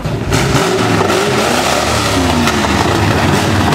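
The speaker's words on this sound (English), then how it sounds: "Attempted a burnout. Well, damn. That Corvette sounds good." A Corvette's engine revs hard and steadily through an attempted burnout at an outdoor car cruise, loud and close with a continuous roaring, throaty exhaust note.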